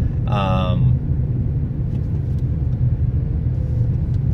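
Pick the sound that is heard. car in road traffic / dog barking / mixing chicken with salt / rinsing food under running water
car in road traffic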